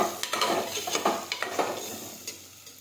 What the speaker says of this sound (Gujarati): હવે આ રીતે આપણે સાતળી લઈશું.